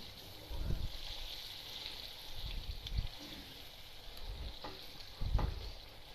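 Halwa lumps being mashed and stirred in ghee, with a steady soft sizzle and several dull scraping thumps of the spoon against the pan, close by and with no talk.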